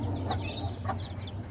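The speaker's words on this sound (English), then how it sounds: "There's all the diamond doves." Diamond doves in an aviary alongside parakeets, lovebirds and cockatiels give a few soft cooing and clucking calls over a low background hum, close by.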